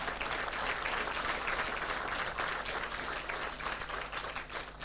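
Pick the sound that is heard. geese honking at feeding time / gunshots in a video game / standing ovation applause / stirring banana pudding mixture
standing ovation applause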